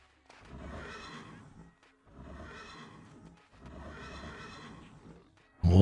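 Horse neighing in the online game EverQuest (Project Quarm), three long whinnies in a row with brief pauses between them, clear and fairly close, ending on a sudden loud thump.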